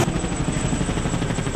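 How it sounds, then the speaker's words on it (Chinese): A firefighting helicopter drops water on a burning textile factory in Tainan after an earthquake, its rotor giving a loud, steady, close drone with a faint rhythmic chop throughout. "紧急调派直升机打水灭火"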